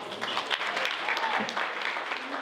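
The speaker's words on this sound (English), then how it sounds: "Give Dr. Henderson a round of applause" Audience applause at an evening awards program celebrating African American students in Pleasanton, dense clapping from a crowd at fairly close, loud level, continuous with a few sharper individual claps and some murmured voices mixed in.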